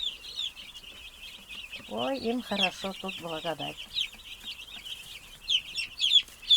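Broiler chicks keep up a constant high, shrill peeping close by, with a voice talking briefly over the chirping partway through.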